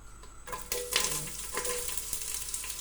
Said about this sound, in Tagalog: Mainit ng ating kawali. Ilagay natin yung ating sibuyas.